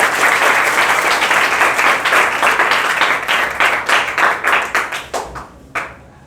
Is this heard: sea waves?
no